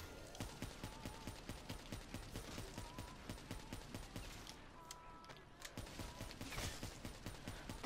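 Zombie video game shooting: a steady run of quiet, evenly spaced gunshot-like pops repeating through the whole stretch, with a brief gap near the end and no talk over it.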